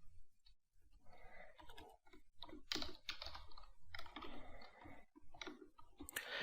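Keystrokes on a computer keyboard while entering JavaScript code, a fairly quiet run of clicks arriving in short bursts with brief pauses between them.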